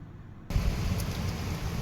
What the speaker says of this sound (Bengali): প্রচণ্ড জোরে আওয়াজ হচ্ছে, পুরো বৃষ্টি।